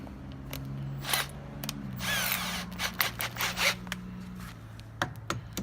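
A power tool spins off 10 mm bolts in short, fairly quiet whirring bursts with a mechanical buzz and clicks between runs, set against a low steady hum.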